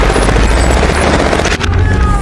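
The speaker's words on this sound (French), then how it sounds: "Adam déclenche une explosion, suivie d'échanges de tirs." Action film combat: an explosion goes off amid an exchange of gunfire, a loud, dense, continuous barrage of booms and shots crowding together in a short burst.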